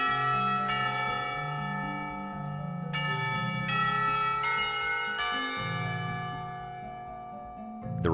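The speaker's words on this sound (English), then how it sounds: "the remainder of his sentence is buried beneath the ring of the lunch bells" School lunch bells from the visual novel Katawa Shoujo ring out loud and full, a layered chime of sustained bell tones with several fresh strikes repeating over eight seconds, alone with no talk.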